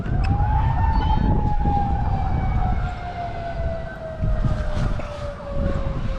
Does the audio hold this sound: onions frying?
no